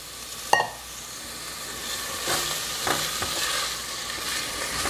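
Spanish onion sizzling in a hot pan, a sharp utensil clack at the start, then a steady close sizzle with scraping stir strokes, no talk.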